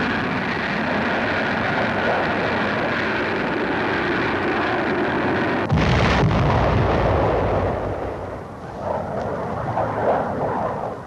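A Sparrow air-to-air guided missile launches in a 1956 newsreel with a loud, sustained roaring rush, then a sudden blast that fades into a distant rumble, all recorded with harsh, noisy archival quality.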